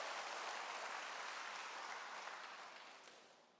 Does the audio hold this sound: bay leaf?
no